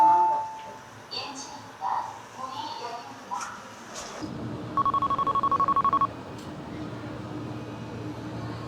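A telephone gives off a short run of rapid electronic beeps inside a department store lift, after people talk, with a low rumbling hum underneath.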